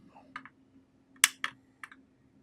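Cutters snip component leads on an electronics badge in several short, crisp clicks, close and fairly faint, spaced irregularly with a pair near the middle.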